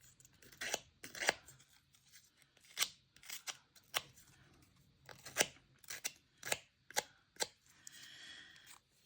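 Scissors snip repeatedly while roughing up paper edges for a junk journal, a close series of crisp cutting and rustling strokes at an uneven rhythm, with quiet pauses between bursts.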